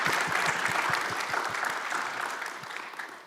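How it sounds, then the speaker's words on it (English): An audience at a community forum on gun violence in Howard County applauds the planning committee, steady full clapping that slowly tapers in loudness, with a few low thumps underneath. "let's give the planning committee a round of applause"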